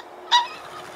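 A ring-necked pheasant gives a single short, loud, harsh honking call near the start, then falls quiet against a faint background hush.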